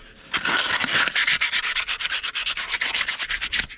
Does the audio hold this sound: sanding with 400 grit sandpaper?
yes